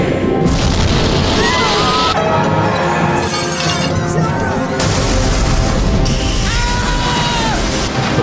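Torpedo explosion striking the ocean liner Lusitania: loud, continuous roar of blasts and crashing debris with bursts of rumbling impact, dense and overwhelming throughout.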